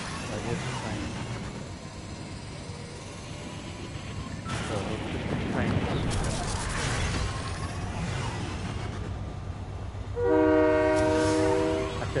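A train in the Fortnite video game rumbles steadily for several seconds, then a loud sustained horn blast sounds near the end, with game noise throughout.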